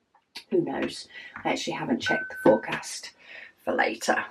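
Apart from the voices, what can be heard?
doorbell ringing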